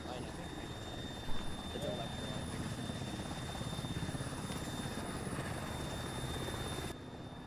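A helicopter in the video game Arma III drones with a steady thumping rotor and engine roar, loud and continuous throughout, with a voice talking faintly underneath.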